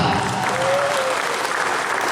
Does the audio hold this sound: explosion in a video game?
no